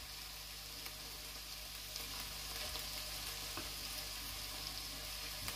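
Squirrel meat browns in a floured frying pan with a faint, even sizzle and soft crackle, steady and without voices.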